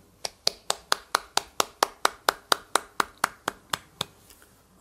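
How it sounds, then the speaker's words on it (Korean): A church congregation at a Christmas Sunday worship service claps together in a steady, even rhythm, roughly eighteen crisp, unison claps at about four per second. The claps are moderately loud in a quiet room. "우리 함께 박수하겠습니다"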